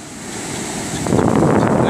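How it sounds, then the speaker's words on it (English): Southwesterly wind howls over ocean surf along the St Lucia fishing shore, a rushing roar that swells louder halfway through as a wave breaks nearby. "Wind is still blowing, howling,"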